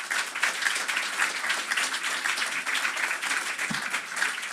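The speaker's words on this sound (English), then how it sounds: "Please, a round of applause for our amazing panelists." Sustained audience applause and clapping for the panelists at the close of a conference session on regenerative farming, a steady dense crackle of many hands filling the room without a break.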